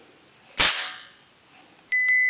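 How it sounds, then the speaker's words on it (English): A single firecracker goes off with a sharp, loud pop that fades quickly, followed by a brief bright electronic chime after a moment of near silence. "Some also include little firecrackers and the children love it."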